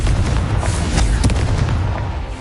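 A Confringo blasting spell goes off in a video game during the Merlin trials: a loud, continuous rumbling blast with a heavy low-end roar and a few sharp crackling bursts near the middle, fading slightly at the end with no talking.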